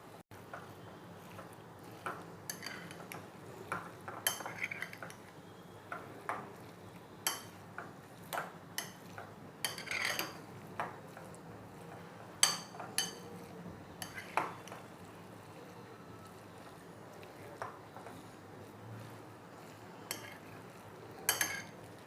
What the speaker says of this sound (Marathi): हळूहळू त्याच्यामध्ये मिक्स करायचं आहे